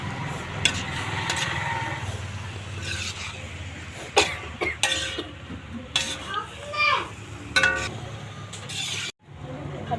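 Fried chicken being mixed into a masala in a pan for Kerala-style chicken perattu, with a soft frying sizzle and repeated spoon scrapes and knocks against the pan, and faint background voices.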